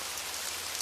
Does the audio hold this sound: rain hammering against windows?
yes